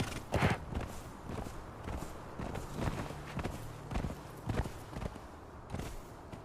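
Horse hooves walking in the Conan Exiles game, a steady series of soft, evenly spaced clops over a low rumbling background, moderately close.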